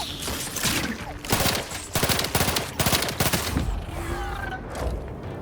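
Rapid bursts of automatic gunfire from The Outer Worlds 2, a sci-fi shooter game, several clustered volleys in quick succession, loud and close, with no talk over them.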